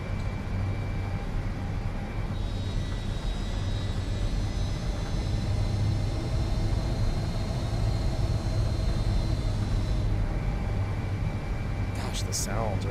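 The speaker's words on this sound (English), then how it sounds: "The sounds are so freaking good on this airplane." An L-1011 airliner in a flight simulator game roars with steady engine noise and a rising whine during takeoff from KSFO, loud and continuous, with a brief squeak near the end.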